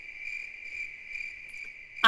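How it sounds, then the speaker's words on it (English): Very loud crickets chirp in the Lunar 2 game on an original PS1 disc, a steady, dense, high-pitched trill that runs without a break until a brief burst of other sound at the very end. "I listen to these very loud crickets"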